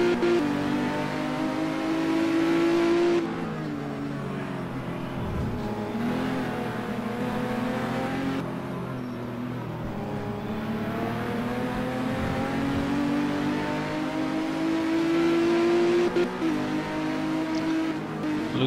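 Onboard engine of Ray Ridal's APS touring car racing in 1985 at the Lady Wigram Trophy, loud and close, rising and falling through gear changes and revs for the whole stretch.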